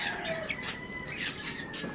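Caged birds, long-feathered fowl held in cages in Tondo, squawk and call in a dense, continuous chorus of overlapping bright cries, close and steady with no speech.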